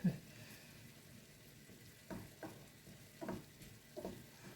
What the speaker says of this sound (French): on va remuer les œufs